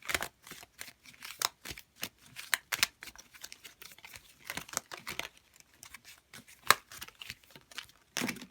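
Crisp, irregular riffle and slap of a tarot deck being shuffled by hand, close-up papery flicks and snaps in bursts with brief pauses, no talking.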